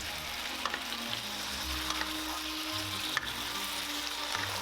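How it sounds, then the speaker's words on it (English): Pork adobo with bay leaves, black peppercorns, soy sauce and sugar sizzles steadily in a hot pan, a close continuous crackle broken by faint scraping as it is stir fried. "Stir fry and let it cook for about a minute."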